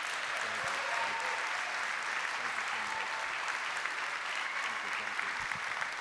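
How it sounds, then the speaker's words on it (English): A conference audience at an environmental media summit gives a big, sustained round of applause for actor Ed Begley Jr., a dense, even wash of clapping from many hands that holds steady throughout. "a big round of applause for Ed Begley here"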